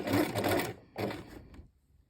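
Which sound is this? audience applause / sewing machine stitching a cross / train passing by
sewing machine stitching a cross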